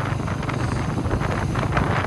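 Steady wind buffeting a microphone while riding a motorbike on a cold, breezy day, a continuous rough roar with low engine rumble underneath and no talking.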